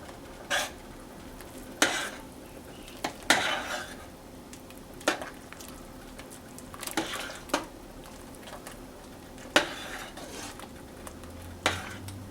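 Korean rice cake soup with sesame oil and black pepper is stirred in a pot, with a spoon knocking against the pot in repeated sharp clinks over a low simmering bubble and no speech.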